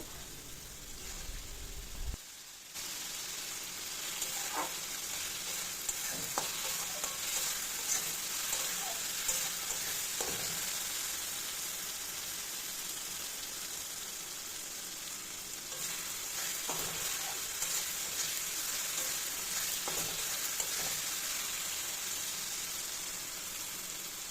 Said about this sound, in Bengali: তো আমি ভালো করে অনেকক্ষণ থেকেই মশলাটা কষিয়ে নেব।